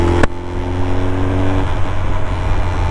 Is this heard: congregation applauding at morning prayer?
no